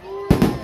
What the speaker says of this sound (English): It's our annual tree lighting and fireworks exhibition here taking place once again